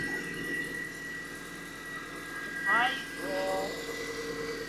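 A Mini Cooper S R53 idles steadily with its supercharger and belt running, a constant mechanical drone heard close. Someone talks over it, and a brief rising whine cuts through partway.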